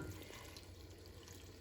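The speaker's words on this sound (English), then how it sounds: "I'm going to add some water now." Water poured from a tap into a soup pot on the stove, a soft continuous splashing and running stream, fairly faint and steady with no voices over it.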